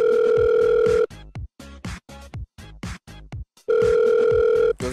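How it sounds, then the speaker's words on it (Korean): A telephone dial tone sounds steadily at the start, gives way to a run of short keypad dialing tones, then resumes near the end, all close and clear with no talking. "전화를 한번 해봤습니다"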